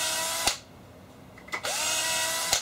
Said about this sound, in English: I'm going to drill a small hole all the way through it.